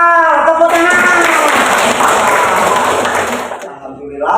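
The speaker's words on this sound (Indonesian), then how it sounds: "Ya, tepuk tangan." An audience of schoolchildren applauds at a school lesson event, a dense, loud burst of clapping that swells and fades after about four seconds, following a brief spoken cue.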